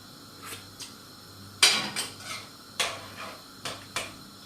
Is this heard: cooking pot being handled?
yes